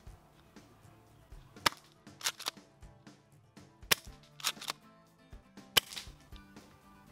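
A Tokyo Marui M870 airsoft shotgun runs on green gas and fires a 6-shot burst, heard as a few sharp snapping shots with short gaps and quieter clicks and handling noise between them.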